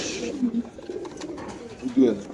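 Exhibition pigeons on a pigeon farm coo softly in low, throaty bursts, a few close calls rising over a murmuring human voice nearby.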